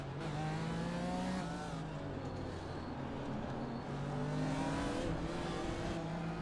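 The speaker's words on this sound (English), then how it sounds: "I love how this car sounds like a washing machine." A race car engine in the iRacing simulator, driving a Ferrari, drones and revs steadily with rising and falling pitch at fairly low level, a rough, rattly tone throughout.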